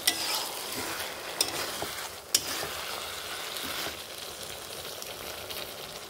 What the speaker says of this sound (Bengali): এটা সুন্দর করে নাড়াচাড়া করে ভাজা ভাজা করে নিতে হবে।